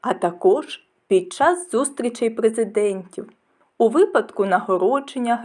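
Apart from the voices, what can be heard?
None of the usual background noises is heard.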